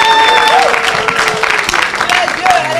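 A congregation at a French-language religious gathering claps loudly and steadily for Jesus, with a sustained sung or held tone over the dense applause.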